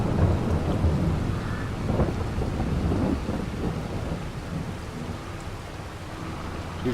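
In-game thunderstorm in Farming Simulator 22, with heavy rain hissing steadily and low rumbling thunder rolling through the whole stretch.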